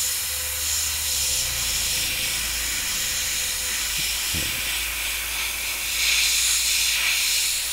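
A small airbrush sprays black paint in one continuous, steady hiss, loud and close throughout, with no talking.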